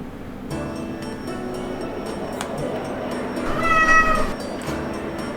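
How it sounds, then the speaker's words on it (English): A cat meows over game background music during a Legend of Dragoon play session, with one clear call near the four-second mark standing above the steady soundtrack. "Thank you for the meow."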